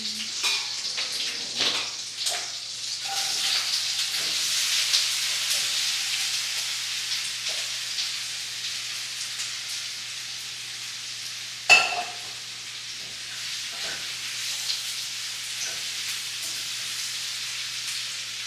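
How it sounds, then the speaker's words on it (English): A whisk stirs dry flour with nutmeg and salt in a bowl, making a soft, continuous scratchy swishing at close range. A few brighter clinks sound where the whisk touches the bowl. "I'm just gonna whisk that around."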